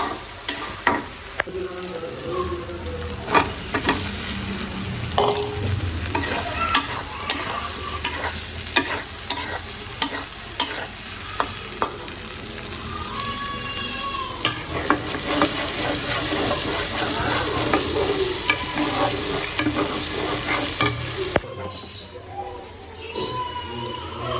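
Cumin, dried chilli, ginger and garlic fry in hot oil, a loud, constant crackling sizzle with frequent scraping stirs throughout, ending in a quieter stretch.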